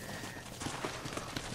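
Steady clip-clopping of horse hooves in Red Dead Redemption, a regular trot of close, distinct hoof strikes carrying on through the whole stretch.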